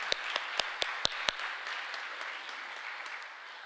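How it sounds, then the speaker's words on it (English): A church audience at a scholarship awards ceremony applauds the students' families, with a few sharp close claps standing out over a steady wash of clapping that gradually thins. "So let's give a round of applause for the families of the students."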